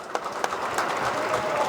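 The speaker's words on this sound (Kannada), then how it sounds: "ಶಶಿ ಸರ್ಗೋಸ್ಕರ ಒಂದು ಜೋರ್ ಚಪ್ಪಾಳೆ." A studio audience at a Kannada TV show breaks into loud applause for a guest, opening with a few distinct claps that quickly merge into a full, steady roar of clapping.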